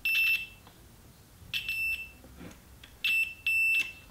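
Sharp electronic beeps from a multimeter continuity tester checking wires: a short one, then a longer pair and two more, steady high tones separated by quiet gaps.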